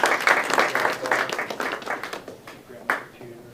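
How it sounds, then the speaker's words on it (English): Audience applause for Dr. Vaughn Watts at a live biohacking event, a burst of dense clapping that tapers off over a few seconds, with a couple of louder claps near the end. "So give a warm round of applause for Dr. Vaughn Watts."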